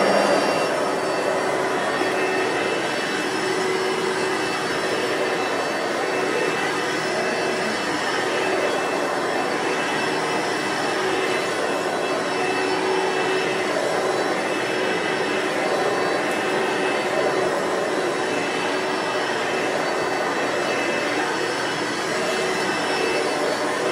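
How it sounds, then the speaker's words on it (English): A Kenmore Power Center vacuum cleaner runs continuously with a loud, steady whine and airy roar, its roller brush likely adding to the constant drone with no pauses. "Sounds like it might be coming from the roller brush."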